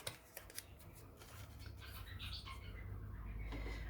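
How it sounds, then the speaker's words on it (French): Scissors snip the paper tab of a small illuminated Christmas house craft, giving a few quick crisp clicks at the start, then soft rustling and handling noise at low level. "Je viens couper la languette."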